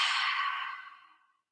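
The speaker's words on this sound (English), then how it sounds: "One exhale out the mouth" One long, breathy exhale out through the mouth during a relaxing yoga flow, close and clear, loud at first and then tapering smoothly into silence.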